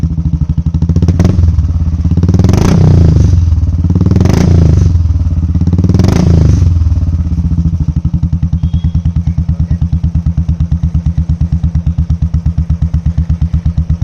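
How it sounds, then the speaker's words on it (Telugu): A modified Royal Enfield Classic 350 motorcycle idles loudly up close with a steady thumping exhaust beat. Three sharp throttle blips rise and fall before the engine settles back to a rhythmic idle. "ఇప్పుడు ఒకసారి ఎగ్జాస్ట్ సౌండ్ అయితే విందాం ఎలా ఉంది ఏంటి అనేది."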